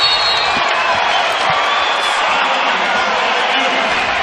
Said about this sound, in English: And that gets the crowd into the game.